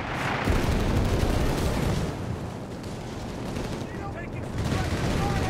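Strafing gunfire from an aircraft in the World War II strategy game Company of Heroes 3, a dense, continuous roar of rapid shots and blasts that dips briefly midway and swells again near the end.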